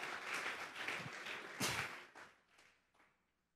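A church congregation claps together as a worship offering, a dense wash of hand claps that swells and then tapers off into quiet over a few seconds.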